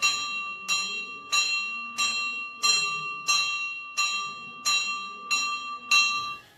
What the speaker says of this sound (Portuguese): vou bater o sino, pode ser?